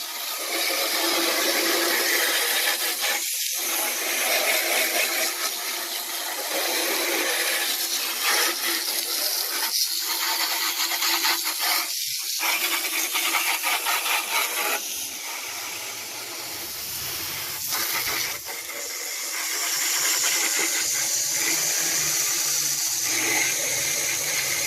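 Water sprays and hisses steadily over the headlights of a 2008 Honda Civic during restoration rinsing, a close, continuous misty spray with a few brief pauses and a softer dip partway through.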